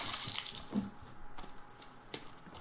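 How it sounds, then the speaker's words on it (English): Water splashes and sloshes in the survival game The Forest, a continuous wash of watery noise with a few sharper splashes. "And why is this just splashing sound too?"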